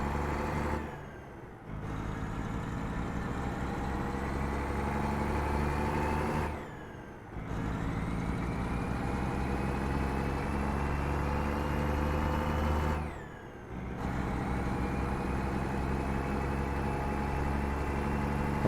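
Kenworth T680 Next Gen truck engine in American Truck Simulator, a steady loud diesel drone with low harmonics, briefly dipping three times as the gears shift and then building again, with no talk.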